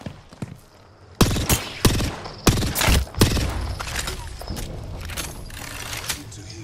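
Gunfire in the video game Apex Legends, a burst of loud close shots and rapid fire with clattering effects, then quieter movement and rustling, and a voice briefly heard.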